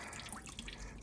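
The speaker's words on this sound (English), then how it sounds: "nothing clean about draining cartridge style filters" Faint oil dripping and trickling from draining cartridge-style filters on a Farmall 1206 tractor, a soft liquid patter heard close and quiet with no talk.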